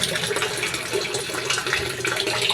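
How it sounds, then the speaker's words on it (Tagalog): Water drains steadily out of a catfish tank, a continuous close rushing wash with no pauses and no voices. "dito magdi-drain tayo susunod na tayo magpapalit ng tubig"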